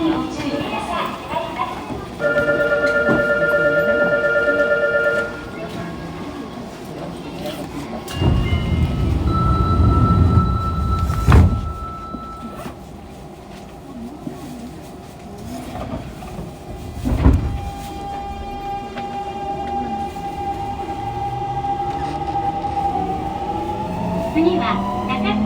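A Fukuoka City Subway 2000 series train, set 23, with late-type Hitachi GTO-VVVF inverter control and an abnormal noise. It runs underground, its motors whining in rising and falling tonal sweeps over a rumbling ride, with voice announcements at times.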